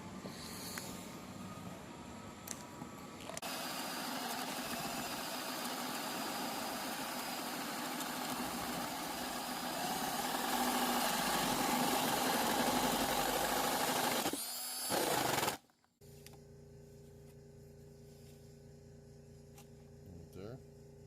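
A power drill fitted with a paddle bit with auger tip bores into wood for a birdhouse, a loud steady whirring grind lasting several seconds before cutting off abruptly, with people talking nearby.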